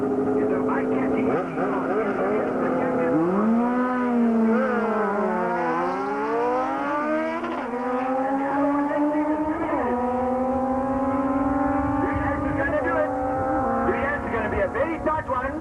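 Street bikes in a first-round Street Bike Eliminator drag race, engines revving loudly with sweeping rising and falling pitch as they launch and pull away, heard under a public-address announcer talking.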